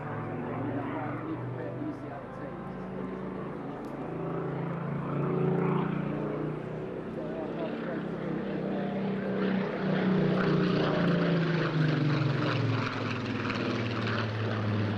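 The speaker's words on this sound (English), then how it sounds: "Aircraft you see here in front of you today represents the pinnacle of Spitfire's development in terms of speed and altitude capability" A Spitfire PR XIX with its Griffon engine flies past at the Eastbourne Airshow, a loud propeller-engine roar swelling and shifting pitch as it passes, heard under a commentator's voice over the public address.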